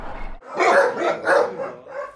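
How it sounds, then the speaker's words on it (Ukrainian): A Cane Corso bellows from its enclosure at the Sumy animal protection society's shelter, sending out several loud, deep barks in quick succession, close by and with no voices over them. "Це вольєр собаки породи Кане Корсона, прізвисько Зара"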